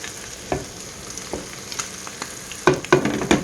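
Wagyu steaks fry in a hot pan with a steady sizzle and crackle, broken by a few sharp utensil taps and a denser burst of spattering and scraping toward the end.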